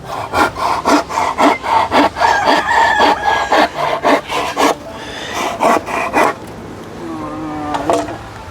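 A hand saw cutting through wood and catching on an embedded nail, steady rhythmic back-and-forth strokes that are loud and close, then a scraping grind and a slower, uneven finish; no speech.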